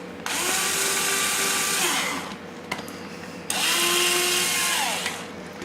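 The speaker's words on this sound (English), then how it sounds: "Let's get our 1/16 inch bit again. And drill a hole in the center." A power drill with a 1/16 inch bit whines in two sustained bursts of about two seconds each, drilling a small hole in a mini quadcopter frame, loud and close, with a short gap and a light tap between them.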